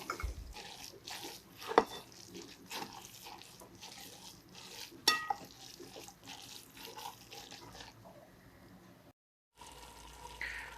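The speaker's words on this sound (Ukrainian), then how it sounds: "І тепер все гарно перемішуємо і ставимо на вогонь, щоб довести його до закіпання." Wet stirring and sloshing of beetroot borscht dressing with sunflower oil in a pot, close and busy with scrapes and liquid splashes, then a brief silence before it resumes.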